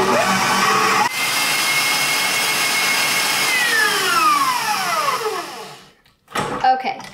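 Electric whisk or mixer beating cake batter for a sword-shaped cake, a loud, steady close whirr whose pitch slowly drops before the motor cuts out, then a brief clatter.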